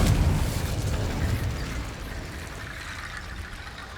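In the Hogwarts Legacy video game, the Confringo spell sets off an explosion: a deep boom that rolls into a crackling, fading rumble over a few seconds.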